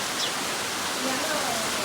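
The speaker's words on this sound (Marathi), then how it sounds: "इकडे पाऊस बघा किती धुमशान पडतोय" Heavy rain pours outside, a dense, steady broadband hiss that holds at an even level for the whole short stretch.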